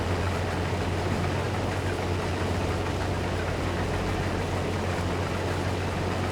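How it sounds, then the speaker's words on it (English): Combine harvester engine in the Farming Simulator video game, a steady, loud mechanical drone with a low idling hum running unbroken throughout, no voices. "I personally, it's all the harvester noise. I love how it sounds though"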